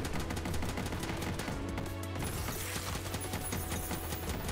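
Belial, the boss in the game Dungreed, fires a rapid run of projectiles, dense shot sounds packed over loud game music with no gaps.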